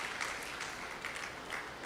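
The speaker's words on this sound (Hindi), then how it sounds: "आप सभी भी ताली बजा सकते हैं।" Audience at a teachers' training inauguration ceremony applauding for young girls, a steady, moderately faint patter of many hands clapping throughout.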